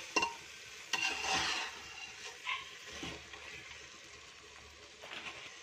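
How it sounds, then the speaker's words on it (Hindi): A spoon stirs mutton with spices in a frying pan for a curry, with soft scraping and gentle sizzling, a few clinks near the start, quiet and close with no talking. "तो इसे डाल के हमें अच्छे से मसाले के साथ मिलाना है।"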